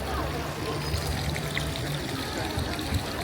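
Very cold drinking water pours steadily from a public fountain in Dubrovnik, Croatia, where people fill bottles, a continuous close splashing stream with faint outdoor background.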